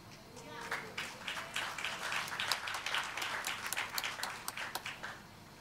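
A church congregation claps weakly and unevenly, a thin scattered patter of hands with a voice talking over it.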